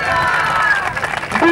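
A crowd applauds and cheers for the Virgin of Nahuel Huapi at an outdoor religious celebration in Bariloche, Patagonia. The clapping and cheering is short, loud and dense throughout.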